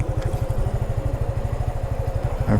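A 2022 Suzuki Gixxer FI motorcycle engine idles close by with a steady, rapid low thumping pulse, running evenly throughout.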